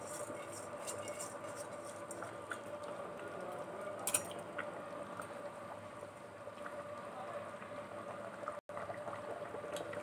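Water comes to a rolling boil in a pot for mutton biryani, a steady close bubbling and hissing bed that continues without a break.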